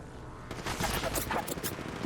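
Gunfire in the mobile battle royale game Apex Legends Mobile, a quick dense burst of shots starting abruptly and continuing steadily over a quiet background hum.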